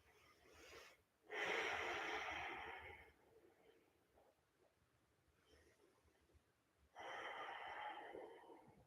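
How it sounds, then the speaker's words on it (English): Two sharp, breathy sniffs from someone with the flu, close to the microphone, separated by a few seconds of quiet breathing. "I'm really sorry if you can hear my sniffles"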